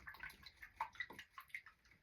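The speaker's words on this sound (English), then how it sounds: "I think I'm going to clean my brush" Paintbrush swished and rinsed in a water jar during acrylic painting of trees, giving faint, close splashing and dripping in a few short bursts.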